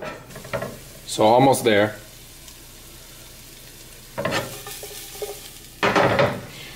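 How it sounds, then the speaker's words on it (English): Onions frying in a pan give a continuous soft sizzle, with occasional utensil clatter and someone speaking briefly over it now and then. "let's check on the onions and see where they're at"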